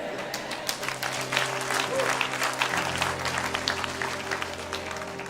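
A church congregation applauds and cheers in a dense, steady wash of clapping with some voices under it, holding at one level throughout.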